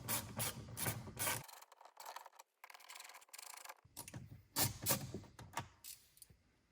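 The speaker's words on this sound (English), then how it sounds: "Now with the 7mm, we're just going to go ahead and remove those two bolts." A 7mm ratchet loosens two bolts during a cabin air filter replacement on a Ford F-150, giving quick bursts of close ratcheting clicks with a quiet pause partway through.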